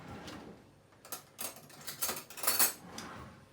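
A spoon clinks and scrapes against a container while stirring sugar into sieved watermelon juice, with quiet knocks at first, then a cluster of brighter, faster metallic taps.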